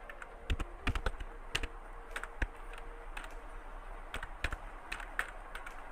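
Typing on a computer keyboard while entering data in an Excel spreadsheet: soft, irregular bursts of key clicks and taps, close to the microphone and fairly quiet, with short pauses between clusters.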